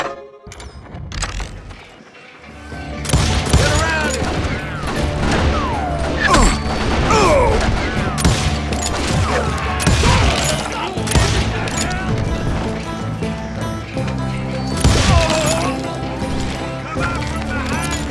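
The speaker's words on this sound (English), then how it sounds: "Sounds like Garrett hired a whole regiment of hired guns" Rapid volleys of gunfire from a regiment of hired guns crack and crash through a dense, loud mix of effects and music, with people talking over the fighting.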